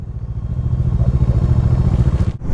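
A group of motorcycles, one of them a Bajaj Dominar, rumbles along on a Ladakh mountain road with a loud, close, pulsing engine drone and a brief dip near the end.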